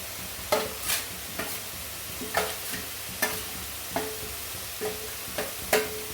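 Grated coconut being stirred into cooked beetroot in a pan for beetroot pachadi, with a spoon scraping in regular strokes about every half second, each stroke a sharp scrape over a faint background sizzle and no talk.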